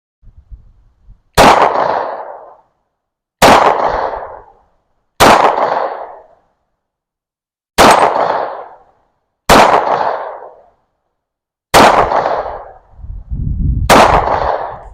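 A Taurus 709 Slim pistol fires seven shots at a target 25 yards away. Each loud, sharp report rings briefly, spaced about two seconds apart outdoors, with no talking.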